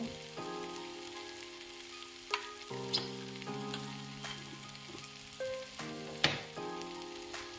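A spice paste frying in a pan sizzles steadily after a splash of water is added, with a crackling hiss under background music and a few sharp spikes as the liquid hits the hot oil.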